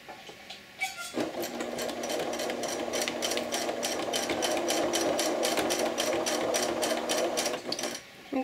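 A sewing machine straight-stitches close to the edge of a bib apron, running steadily at a fast, even pace for several seconds between a soft start and stop.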